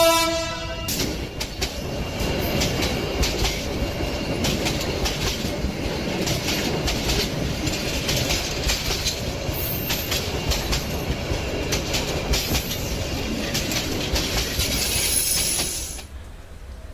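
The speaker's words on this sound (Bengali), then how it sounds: "দেখতে দেখতে ট্রেন চলে এলো" A cartoon train pulls in with a steady rumble and rhythmic clickety-clack of wheels on rails, loud and continuous for the whole stretch, with brief horn-like tones near the start and a squeal toward the end before it settles.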